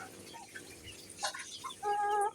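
A chicken kept at home clucking nearby, a few short calls followed by a longer, louder cackling note at the end, over quiet room background.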